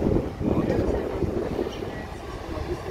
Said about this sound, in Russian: Вот он, электровозик